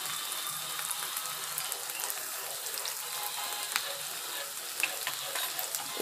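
Potatoes frying in a pan with coriander and red chilli powder, giving a steady, close hiss of sizzling oil with light stirring scrapes throughout.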